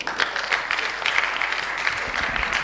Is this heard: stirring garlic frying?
no